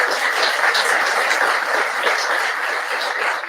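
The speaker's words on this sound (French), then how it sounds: "On l'applaudit très, très, très fort, s'il vous plaît." Steady applause from an audience at an award ceremony where a laureate receives a cheque, dense clapping continuing evenly throughout with no voices on top.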